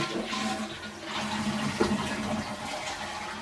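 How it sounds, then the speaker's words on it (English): A household bathroom toilet flushes with a loud, steady rush and swirl of water that fills the whole stretch, close and continuous. "Let me flush that toilet."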